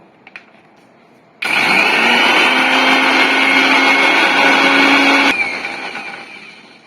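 A kitchen blender grinds lemon with a little water into a paste, switching on abruptly into a loud, steady, high whirring roar that holds for about four seconds before cutting off and winding down.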